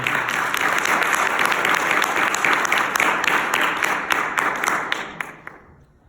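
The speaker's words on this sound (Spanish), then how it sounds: "Denle un fuerte aplauso a Jesús." A church congregation bursts into strong, crackling applause for Jesus during a sermon. The clapping stays loud and steady for several seconds, then tapers off and dies away near the end.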